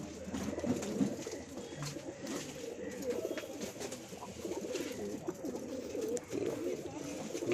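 Pigeons coo continuously at close range, a soft rolling murmur of overlapping calls throughout, with faint indistinct voices in the background.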